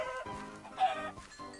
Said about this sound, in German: Aber Hühner! Die wilden Hühner hier.